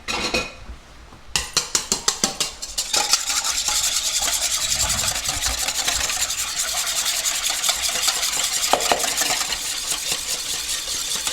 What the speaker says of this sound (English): then just like very lightly stir it in with chopsticks